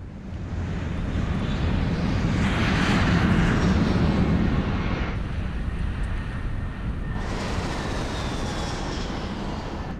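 An airplane in flight gives off a loud, steady roar of engine and rushing air, swelling in the middle and holding constant throughout, with no voices heard.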